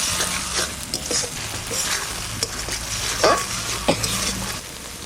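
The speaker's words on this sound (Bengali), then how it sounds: "পোস্ত বাটাটা জল দিয়ে গোলানো দিয়ে দেবো। একটু নাড়াচাড়া দিয়ে তারপরে জল দেবো।" Poppy seed paste loosened with water stirred in a pan for a Bengali rui fish posto, a lively sizzle with repeated scraping and light metallic clinks of the spatula against the pan, close up and without voices.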